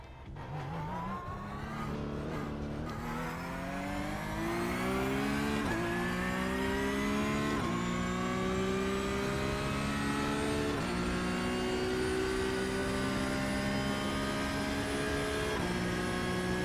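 A Porsche Cup race car with no ABS or traction control revs hard around the Bathurst circuit in the racing game iRacing, its engine climbing through gears in repeated rising sweeps with sharp shifts, loud and close, no talking.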